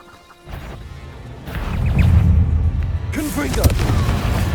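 A Confringo fire spell blasts in Hogwarts Legacy, a crashing boom that swells into a sustained roar with smaller impacts layered over game sound, fairly loud and close.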